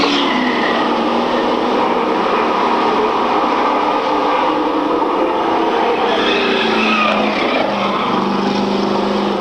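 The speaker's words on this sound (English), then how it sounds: "on a lap of the number 5 Oldsmobile around the Speedway" The number 5 Oldsmobile race car laps a speedway, its loud engine a steady, continuous roar that holds close and even for the whole stretch, with a slight rise and shift in pitch toward the end and no talk.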